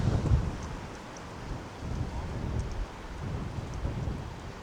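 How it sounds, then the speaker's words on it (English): Strong wind of about 60 to 70 mph blows outdoors at Turner Falls Park in the Arbuckle Mountains, a steady, noisy rushing roar with a heavier gust at the start and no voices. "It's pretty windy out here today."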